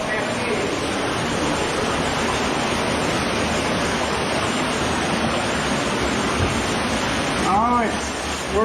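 A cave waterfall roars as a dense, steady rush of water close by, filling the whole stretch, while a voice briefly calls out near the end.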